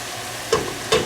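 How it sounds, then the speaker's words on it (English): Onions seasoned with salt sauté in a pan, a steady close sizzle with two brief louder scraping bursts as the food is stirred. "And let those saute."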